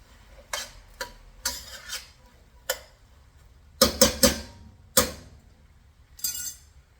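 A spoon stirs food in a bowl for a Hungarian dish, giving a string of short, sharp clinks and scrapes in irregular strokes, close and clear with quiet pauses between them.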